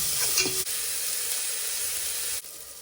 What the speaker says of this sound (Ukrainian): Насипаємо сюди нашу цибульку. І піджарюємо